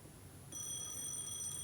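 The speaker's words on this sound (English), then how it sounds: "The phone is ringing." A telephone rings in the Penelope Pendrick video game, a faint, steady electronic ring that starts partway in and holds as a continuous tone over soft background hiss.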